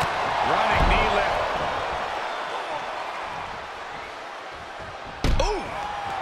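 A running knee lift landing in the wrestling video game WWE 2K22, a sharp, heavy slam near the end over a steady arena crowd roar, with a commentator talking.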